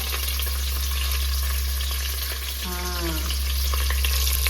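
Tempering spices crackle and sizzle in hot oil, a loud, close frying hiss that stays steady throughout, with a brief squeaky scrape partway through.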